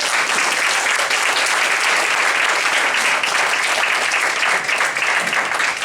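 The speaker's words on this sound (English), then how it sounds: "Please give a round of applause." Loud, sustained audience applause welcoming panelists to a discussion on critical race theory, thick steady clapping from a near room with no voices over it.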